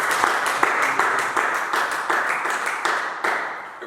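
A church congregation applauds steadily to acclaim the Lord, dense continuous clapping with sharp individual claps standing out, sustained and fairly loud throughout.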